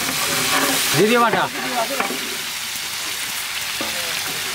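Onion frying in hot oil makes a strong, continuous sizzle, while a voice speaks over it at the start and again near the end.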